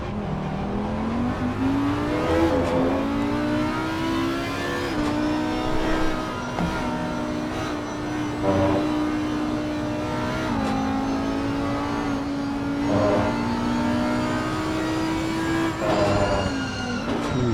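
Race cars, an Audi and a BMW, racing at Circuit of the Americas: a loud continuous engine drone with rising and falling revs as they shift and brake, sustained throughout without talk.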